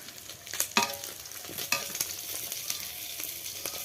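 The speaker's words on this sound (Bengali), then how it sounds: "কই মাছ একটু বেশি করে ভাজতে হয় বন্ধুরা" Koi fish fry in oil with a lively sizzle and crackle, broken by several sharp clinks and scrapes of a utensil against the pan.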